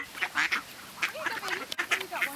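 Several short nasal duck quacks in quick, uneven succession, fairly faint and close, heard alone without talk.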